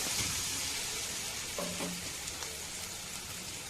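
Tomato gravy frying in a pan with turmeric being stirred in, a steady close sizzle with faint scraping strokes and no voices.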